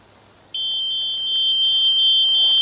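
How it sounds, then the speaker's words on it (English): Alarm on a lithium battery storage cabinet holding lithium-ion and nickel metal hydride cells during a fire test, a piercing continuous high-pitched tone that starts suddenly and holds steady, close and loud. "And there's the alarm going off again."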